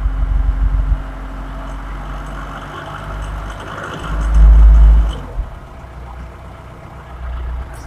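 A car engine with a fuel pressure fault that stalls after driving idles steadily, then gets one short, light rev that swells and drops back to idle before the hum lifts slightly again.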